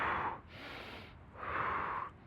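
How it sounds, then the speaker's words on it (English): Deep meditative breathing: two long, loud airy breaths, each a drawn-in rush followed by a softer release, close to the microphone with no talking. "Then deep breathing, like"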